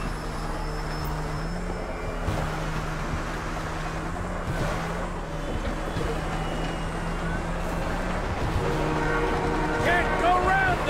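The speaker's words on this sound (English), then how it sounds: "Can't go around the train, gotta go over it!" A train in a video game rumbles steadily with a low continuous drone and tonal horn-like hum, while vehicle engine noise runs underneath and a few brief tones rise near the end.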